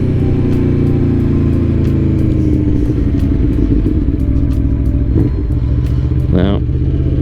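A 2021 Aprilia Tuono V4 Factory motorcycle rolls along in third gear at low speed, its V4 engine a loud, lumpy low drone close up with a steady rough pulse, a brief throttle blip near the end.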